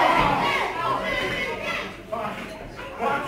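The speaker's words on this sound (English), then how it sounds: "the crowd here at the Southwood and Ferrers Village Hall" Wrestling crowd in a village hall, Southwood and Ferrers Village Hall, a steady indoor murmur and cheer with a commentator talking over it throughout, swelling slightly near the end.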